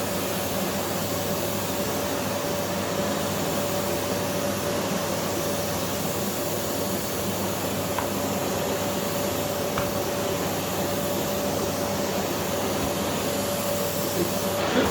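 A Philips PowerPro FC9331 compact bagless vacuum cleaner runs continuously, a steady, fairly loud motor whine with an airy hiss and a fixed tonal hum, unchanging for the whole stretch.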